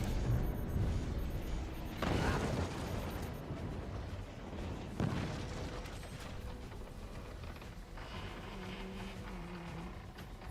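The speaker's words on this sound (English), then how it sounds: "Specifically, cannon shells." Cannon shells firing and exploding in the naval battle game Forts, with heavy booms near 2 and 5 seconds over a constant dense rumble of mechanical battle noise.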